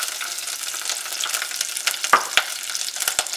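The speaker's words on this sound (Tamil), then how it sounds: "அதை சேர்த்து கொஞ்ச நேரம் நல்லா அப்படியே சாட்டே பண்ணிக்கோங்க" Onion and capsicum sauté in a kadai pan with a continuous close sizzle, broken by a few sharp scraping clicks from stirring in the second half.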